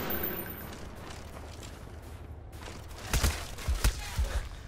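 Several sharp gunshots from Call of Duty Black Ops multiplayer, scattered close bangs over a low game background rumble, clustered in the second half.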